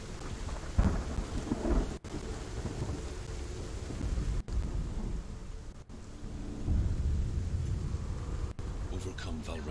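Rain and rolling thunder from the video game Hellblade: Senua's Sacrifice fill the clip as a steady, dense wash with low rumbles swelling and fading, and a voice talks over the storm.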